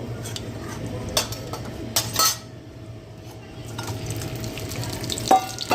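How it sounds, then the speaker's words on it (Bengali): Parshe fish with cumin seeds frying in hot oil for a mustard fish curry, a steady sizzle under scattered clinks and scrapes of a utensil against the pan, close by with no talk. "তা প্রথমে তেলের পরে জিরে ফোড়ন দিয়ে নেব। জিরেটা ভালো করে পোড়া পোড়া হবে। এর ভিতরে মাছগুলো দিয়ে দেব।"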